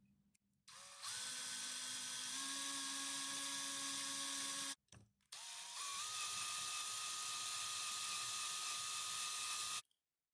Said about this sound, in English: Now take your drill and carefully start to drill out the rivet.